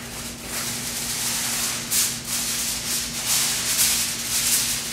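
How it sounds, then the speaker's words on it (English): Aluminum foil is wrapped around ribs on a baking tray for oven smoking, giving close, irregular crinkling and rustling with sharper crackling bursts over a faint steady hum. "I'm going to wrap this, at least for the first hour, with a little aluminum foil"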